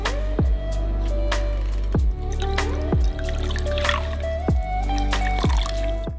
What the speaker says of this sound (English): make sure that you take off any excess liquid from it